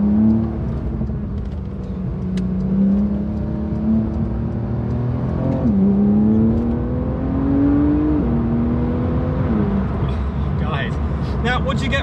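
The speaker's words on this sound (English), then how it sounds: "What we do have is the 3-litre twin-turbo flat 6 engine. The flat 6 has a beautiful tone to it." A Porsche 911 992 Carrera S with its 3-litre twin-turbo flat-six pulls hard in Sport mode, revs climbing through several gear changes from inside the cabin, with someone talking over the engine.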